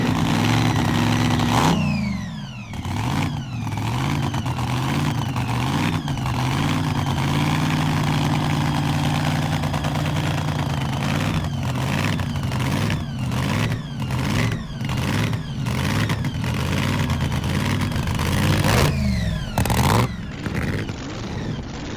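A 1929 Ford Roadster race car engine runs loud and close at a speed-trials event, idling with a steady rough throb and then blipped through repeated sharp revs, continuous for about twenty seconds with no talk.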